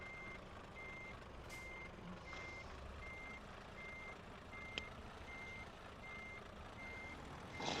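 Reversing beeps from a truck in the multiplayer game Euro Truck Simulator 2, a steady, evenly spaced series of about ten short tones over continuous engine rumble, with a brief click partway through.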